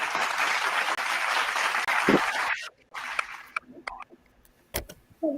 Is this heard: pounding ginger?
no